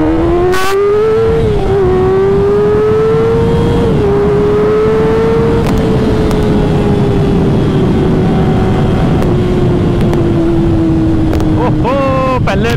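A Kawasaki ZX-6R motorcycle accelerates hard in first gear from a standstill, its engine wailing loud and close as the pitch climbs steadily across one long rev, with wind buffeting and a voice briefly audible.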